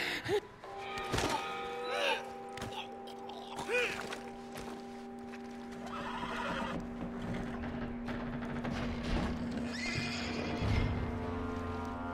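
A horse in the video game Red Dead Redemption 2 gives several loud, close whinnies and snorts along with hoof thuds, over a sustained tonal background.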